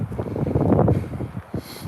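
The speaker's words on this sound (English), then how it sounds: "It's really windy up here." Strong wind buffets the microphone in continuous, loud, rough gusts.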